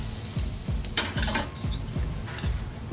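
Asafoetida and spices sizzle steadily in hot chili-fried oil for a gravy while a utensil scrapes the pan in a regular rhythm, close by with no talking.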